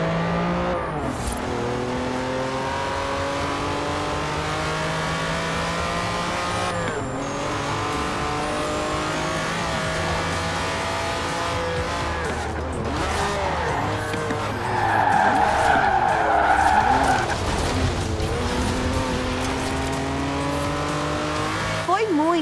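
A Lamborghini Countach accelerates hard in Forza Horizon 4 with its engine revving through rising gear sweeps, shifting repeatedly, and a long tire squeal midway, loud and continuous, with a voice talking over it.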